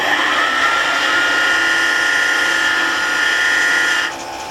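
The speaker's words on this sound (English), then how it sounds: "So if you have a reversing switch on your lathe, you can do reverse" Wood lathe spinning in reverse as a wooden top is textured, a steady high-pitched whirring whine with a bright tonal hum, close and continuous, then dropping off sharply near the end.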